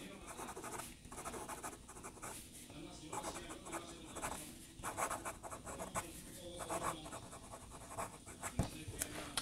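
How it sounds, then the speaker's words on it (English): A WoodShedPenCo fountain pen scratches across paper in fast writing, a faint, quick rhythmic scritching of short strokes close to the microphone. "Let's do a little bit of fast writing just so you guys can see that in action."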